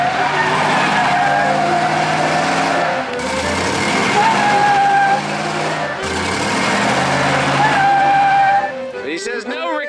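A vehicle engine revs hard and strains to drag a trailer whose brakes are seized after sitting about 15 years, loud sustained roaring in three long surges with grinding, squealing tire noise.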